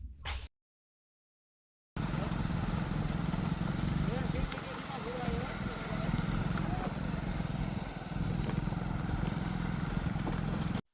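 A motorcycle rides along a road with a steady, rushing engine and wind drone, cut by a short silent gap near the start, then continuing unbroken.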